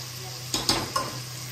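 A spoon stirs brinjal curry cooking in a pan, giving a few quick scraping strokes over a soft, steady sizzle.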